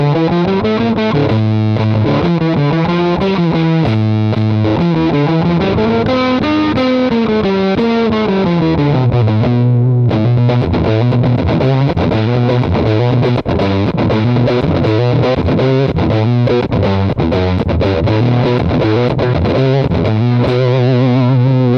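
An electric guitar plays through a Jamies Fuzzdrive pedal set to heavy fuzz, giving thick, saturated, sustained notes and sliding riffs that play continuously and loud, alone.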